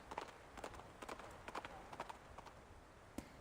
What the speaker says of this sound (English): The communicator's noise startles the nibbling horse. It lifts its head and bolts into the distance.